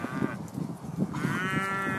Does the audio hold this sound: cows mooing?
yes